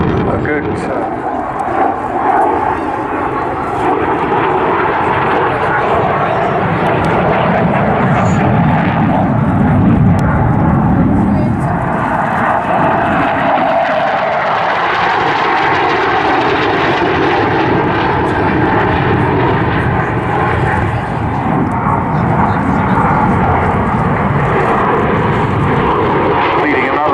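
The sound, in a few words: aircraft flying at airshow with undercarriage down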